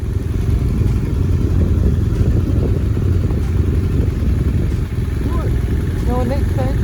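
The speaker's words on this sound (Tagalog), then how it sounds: "Ayan, maraming motor doon." Motorcycles on a Dolomites mountain pass in South Tyrol, Italy, a steady loud engine rumble throughout as bikes pass nearby, with a voice talking over it.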